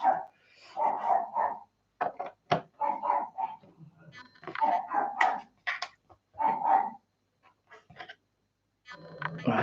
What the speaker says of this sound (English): the dog is definitely kicking off for some reason